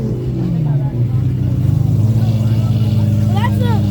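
A Lamborghini Huracan at a car show, its engine rumbling low and then revving up into a loud, throbbing, pulsing roar nearby, with crowd chatter and voices in the background.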